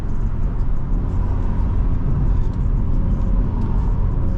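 A BMW car cruising along a road, heard from inside as a steady, continuous low rumble of engine and tyre noise with no speech.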